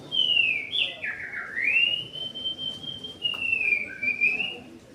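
A person whistles in imitation of a Yorkshire canary's song, one long continuous warbling line of rising and falling notes with slides and brief trills, moderately loud and close, with no talk during it.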